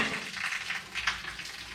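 Paratha frying in a hot pan: a soft, continuous sizzle with small crackling bursts, close and quiet, with no talking over it.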